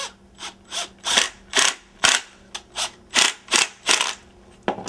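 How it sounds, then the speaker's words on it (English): Exterior screws are driven into molly anchors in a rotten entrance door frame, heard as a close, loud series of about a dozen rhythmic ratcheting bursts from a driver, evenly spaced with brief pauses and no talking. "I'm just going to use some exterior screws to screw it right into those mollies."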